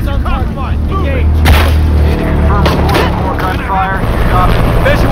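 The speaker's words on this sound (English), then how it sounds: "Gunfire." Gunfire in the video game Shadow of the Tomb Raider, with loud booming shots and a heavy rumbling backdrop as soldiers talk over radio-style chatter throughout.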